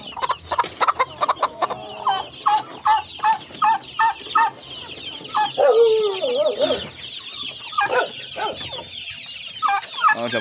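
Rhode Island Red hens on a farm clucking in repeated short bursts, with a drawn-out squawk midway and busy overlapping calls throughout, close and fairly loud.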